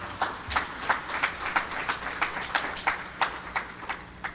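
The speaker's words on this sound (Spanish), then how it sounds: "Un aplauso a nuestro Señor." A church congregation claps in praise to the Lord after a prayer, an even, rhythmic clapping of roughly three beats per second that continues steadily throughout.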